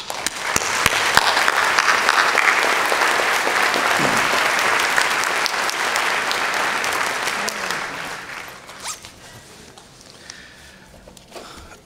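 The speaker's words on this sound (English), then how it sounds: "So I think we should all owe you a round of applause and recognize your efforts" A commencement ceremony audience breaks into sustained, dense applause, loud and even for about eight seconds before thinning into scattered claps and fading out.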